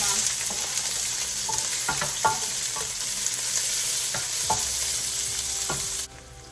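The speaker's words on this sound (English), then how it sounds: "now I'm gonna go ahead and saute my." Food sautés in a little olive oil in a metal pan with a metal fork, giving a steady close sizzle with intermittent scraping strokes. It cuts off abruptly near the end.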